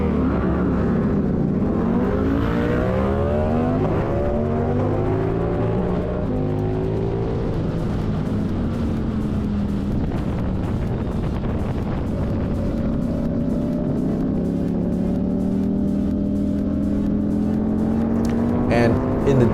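Racing motorcycles, including a 750 and a Ducati V4, at a race launch, a loud continuous engine roar with rising and shifting revs, pitch sweeps from several bikes and heavy wind buffeting throughout.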